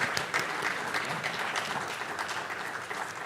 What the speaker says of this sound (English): Please join me in giving a warm round of applause to welcome Ms. Elsie Atefua to the podium